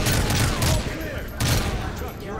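Rapid gunfire bursts from the video game Call of Duty MW3, dense crackling volleys in two loud waves over a steady battle din.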